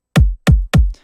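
Three punchy processed acoustic kick drum hits in a steady rhythm, each with a heavy low thump and short bright attack, loud and close, followed by a faint noisy tail.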